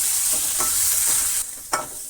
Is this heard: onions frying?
yes